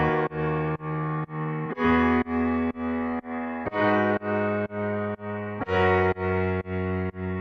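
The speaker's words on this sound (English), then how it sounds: "I then added a piano." A piano part for an Afro house track made in Logic Pro X plays a steady pattern of repeated sustained chords, evenly pulsing with slight chord changes, moderately loud and alone.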